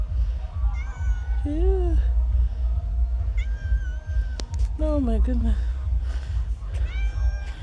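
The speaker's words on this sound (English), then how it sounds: "And there's a cat here." A cat meows several times near a spot where ducks are about, its rising and falling cries breaking through steady background rumble, with people talking over and between the calls.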